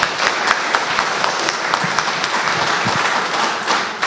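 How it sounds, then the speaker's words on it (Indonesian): A congregation at a church family seminar applauds Pastor Nyoman, producing a steady, dense roar of many hands clapping, loud and close, with a few louder individual claps standing out. "kita berikan aplaus kepada Pendeta Nyoman"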